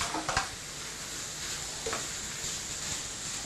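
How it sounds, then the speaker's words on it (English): Tomatoes, about 300 grams, tipped into a hot frying pan for a tomato and bacon pasta, giving a steady close sizzle with a few short stirring clatters at the start and again near the two-second mark, no talk. "So, put the tomatoes in."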